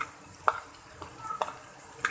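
Onions sauté in a pan for vegetable macaroni, a soft low sizzle broken by a few sharp utensil scrapes and stirring clicks, close and fairly quiet.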